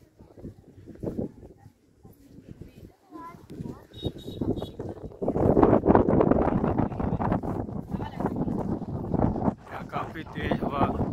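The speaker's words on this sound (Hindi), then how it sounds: "काफ़ी तेज़ हवा चल रही है" Strong gusty wind at a dam buffets the microphone in a rumbling roar that swells louder midway, while a person talks over it outdoors.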